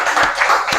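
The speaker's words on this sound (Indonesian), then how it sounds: "Kita beri tepuk tangan untuk kelompok 1" A short burst of clapping from a small group in a classroom lesson, several hands patting quickly and unevenly.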